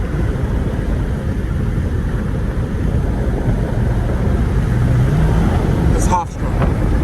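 A Jeep SRT driving, its engine and road noise forming a loud, steady drone heard from inside the cabin, with a brief dip near the end.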